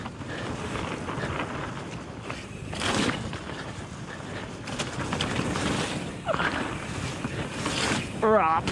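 A mountain bike splashes through puddles on a trail in snow, with repeated rushing washes of water and wind noise that swell and fade, plus a brief voice near the end.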